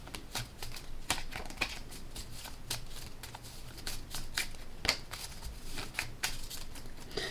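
Playing cards are laid out and split during a tarot-style reading, giving a steady run of close, crisp card snaps and shuffling slides with sharper flicks scattered throughout.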